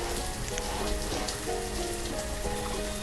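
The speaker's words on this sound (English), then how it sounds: "then it rains." Rain falling in the city-building game Banished, a dense, even hiss of drops on surfaces that holds steady throughout, with no one speaking.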